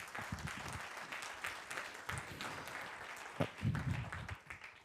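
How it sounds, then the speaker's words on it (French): Audience applause at an industry conference opening, a dense sustained clapping from a crowd lasting several seconds, fairly close and even, fading slightly at the end. "Sous vos applaudissements"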